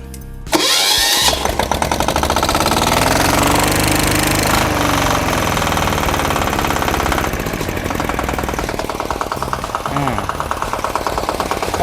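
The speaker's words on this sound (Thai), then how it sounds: "เราก็จะติดเครื่องเลยนะฮะ ติดเครื่องปุ๊บ" A Toyama 13 hp diesel engine driving a high-pressure water pump on a borehole cranks and catches, then runs with a loud, steady, rattling clatter close by throughout.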